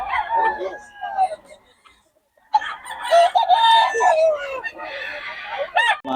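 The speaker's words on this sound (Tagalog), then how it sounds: "Ang gulo ng manok." Chickens and roosters on a Filipino poultry farm cluck and crow in a busy, overlapping chorus, with a short lull before the birds start up again loudly and near.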